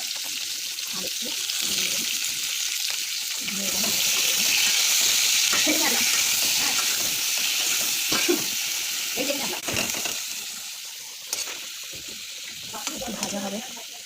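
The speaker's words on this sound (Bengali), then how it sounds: "এবারে এটাকে ভালো করে নুন হলুদ মাখিয়ে ভাজতে হবে" Crab pieces rubbed with salt and turmeric sizzle in hot oil for a Bengali-style crab curry. The frying is steady and close, with occasional stirring and clattering and some faint voices in the background.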